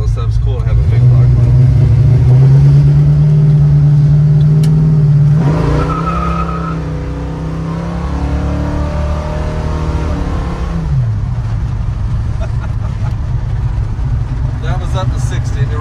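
A 1977 Chevrolet C10 pickup with a 555 big block engine and TCI transmission revs loud and near from inside the cab, its deep drone climbing in pitch, dropping at a shift, then pulling steadily again.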